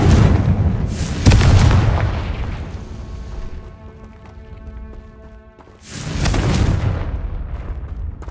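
Two heavy booming blasts of the Confringo spell in the Hogwarts Legacy video game, each a loud explosive burst followed by a fading rumble, with a quieter tonal game ambience between them.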